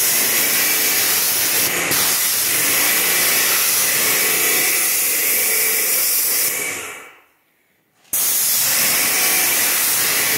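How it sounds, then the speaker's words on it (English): A paint sprayer on a house rehab job in Benton, Illinois hisses loudly and steadily at close range, cutting out for about a second before starting up again, with no talking. "first day with the spray painter"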